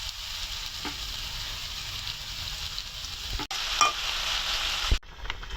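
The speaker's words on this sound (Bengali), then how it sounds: "তেলাপিয়া মাছ তো রান্না করতেছি, সাথে আলু দিয়ে উস্তা ভাজি করতেছি।" Bitter gourd and potato fry in a pan beside tilapia fish cooking, a continuous close sizzle with occasional stirring scrapes and a couple of sharp clatters near the end.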